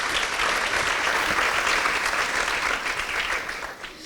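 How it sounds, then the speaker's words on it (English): A conference audience at BBS23 applauds to welcome a panel of speakers, producing a full, even round of clapping that fades slightly near the end. "a big round of applause and welcome to our panellists"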